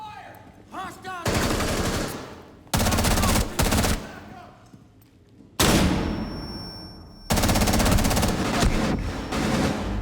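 Rapid automatic gunfire in the video game Rainbow Six Siege comes in loud, sustained bursts separated by short quieter gaps, close and dense.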